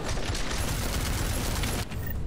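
Sustained gunfire in the video game Deus Ex Mankind Divided, a dense continuous barrage of shots at steady loudness, pausing briefly near the end before resuming.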